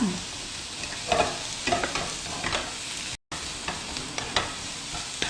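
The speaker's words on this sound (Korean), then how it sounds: "자, 그래서 센 불로 볶는데 오징어가 타면은 불 줄이셔야 돼요." Squid stir-fried over high heat in a pan, sizzling steadily while utensils scrape and toss it in repeated stirring strokes, fairly close, with no talk.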